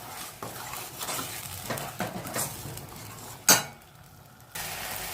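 Grated tomatoes sizzle in a pan of masala gravy base while a spoon stirs and scrapes, with a sharp metal clink near the middle; steady close frying hiss throughout, no talk.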